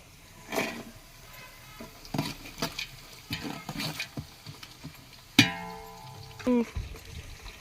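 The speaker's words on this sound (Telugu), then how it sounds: "ఆనియన్స్ అయితే వేగాయండి ఇప్పుడు పచ్చిమిరపకాయలు అయితే వేసుకుందాం" Onions and green chilies frying in a pan over a wood fire for biryani, with intermittent stirring, sizzling and spoon clatter, a sharp metallic clang near the end, and a voice talking over it.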